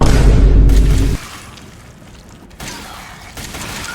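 A remote-control bomb detonates in Resident Evil 7, a loud, bass-heavy boom with rumbling debris lasting about a second, then a quieter ambient tail with a brief mechanical shift near the end.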